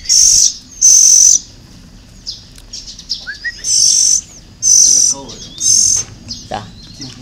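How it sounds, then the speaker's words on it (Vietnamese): A caged oriental magpie-robin in a nest of five birds sings close by in repeated bright, loud whistled phrases separated by short pauses, with softer chirps and calls between them. "Chim ấy, chim chích chòe."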